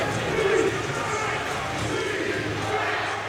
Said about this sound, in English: The crowd getting behind the Seattle team early